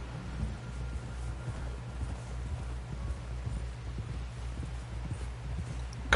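Horse hooves clip-clopping steadily along in Red Dead Redemption 2, an even, rhythmic trot heard close against a low background hum, with no talking.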